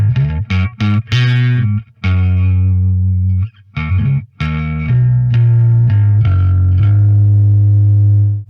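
Bass guitar through the Audio Assault Bassgrinder distortion plugin with an amplifier and cabinet, playing loud distorted notes and chords in a lively phrase, ending on a long sustained growling note.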